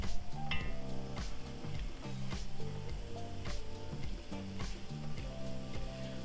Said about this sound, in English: I'll actually deglaze this pan as well, so we get these flavors in the soup